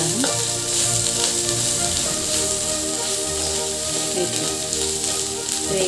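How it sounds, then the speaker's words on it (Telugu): Ginger and turmeric frying in hot oil for a ridge gourd and prawn curry, a loud, steady close-up sizzle with crackling spits and stirring, no voices. "అల్లం పసుపు నూనెలో వేసి టేస్ట్ అనేది మంచిగా వస్తుంది"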